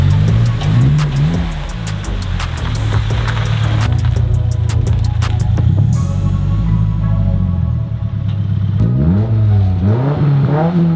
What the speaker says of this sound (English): So let's back the WRX back into the driveway.